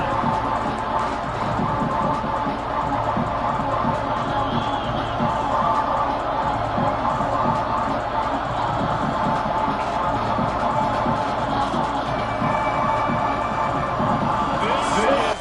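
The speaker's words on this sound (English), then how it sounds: "This crowd ready to make its presence known." Stadium crowd at a college football game, FSU against Washington, a dense sustained roar of cheering voices, loud and steady throughout with a broadcast commentator talking over it.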